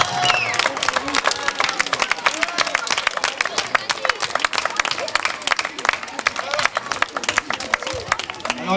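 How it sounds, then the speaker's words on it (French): A crowd gives the Green team loud, rapid applause at the 40th-anniversary celebration of the Jardin Robinson du Lignon, with close, dense clapping that continues steadily with a little cheering mixed in. "En 4e position, nous avons l'équipe des Verts, qu'on applaudit très fort"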